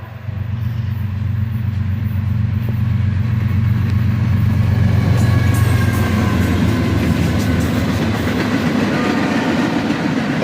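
Northbound CSX freight train of empty flat cars led by an ES40DC and an ES44DC locomotive, passing fast with a steady heavy diesel rumble and rising wheel and rail clatter that builds to a loud peak.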